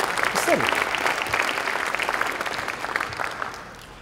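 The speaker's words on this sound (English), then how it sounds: "Give my company, BCT, a round of applause." Audience applause for a speaker at an EMSDC 2016 conference talk, a steady wash of many hands clapping over about four seconds with a faint crowd murmur, fading slightly toward the end.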